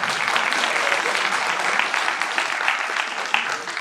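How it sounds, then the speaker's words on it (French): A festival film-screening audience applauds steadily, a dense wash of many hands clapping that carries on evenly for the whole stretch, with no talk over it. "qui est juste là et que vous pouvez applaudir"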